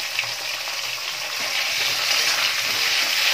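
Cut cauliflower florets and split flat beans fry in a pan, making a loud, close, continuous hiss and sizzle with a few soft stirring movements.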